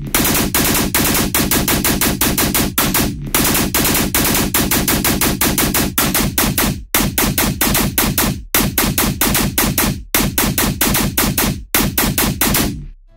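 A loud, aggressive tearout gun bass synth patch chugs in rapid machine-gun-like stutters, with brief gaps breaking the relentless rhythmic bursts.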